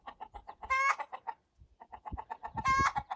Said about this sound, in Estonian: Nüüd üksinda siin väljas kaagutab.